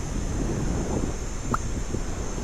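Steady wind buffets the microphone in a continuous low rumble at a campsite on Lantau Island, Hong Kong, with a brief chirp-like sound partway through.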